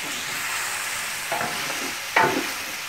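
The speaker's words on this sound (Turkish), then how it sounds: "Mis gibi kavurma yer ateşinde ayrı bir güzel." Kavurma made from sacrificial meat fries over a ground fire outdoors in a village, giving a constant close sizzle. Two distinct scraping stirs cut through near the end, with no voices.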